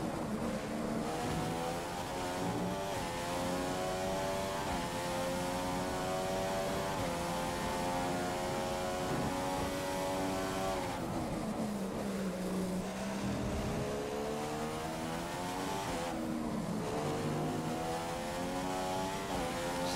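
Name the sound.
F1 race car engine in F1 2016 video game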